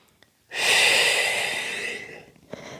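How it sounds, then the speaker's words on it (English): A single long, deep breath pushed out through the mouth, a steady breathy rush that starts abruptly and fades over about a second and a half, close and clear with no talking. "big breaths in through the nose and then out through the mouth"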